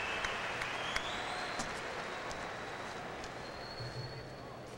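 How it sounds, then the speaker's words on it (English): An audience applauds after a kickboxing martial arts demonstration. The clapping is faint and distant, a steady, uniform patter throughout with a few sharper claps. "of applause for Tadashi Yamashita"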